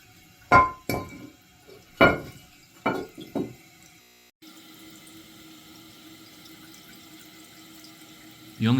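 A toilet with a faulty flapper runs water: a few sharp clinks and knocks at first, then a faint, steady trickling hiss that carries on to the end.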